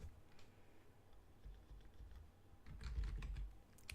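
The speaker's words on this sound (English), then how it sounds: "Wow, my typing is terrible." Typing on a computer keyboard during a Minecraft session, a quiet irregular patter of key clicks, growing busier and slightly louder toward the end, with no voices.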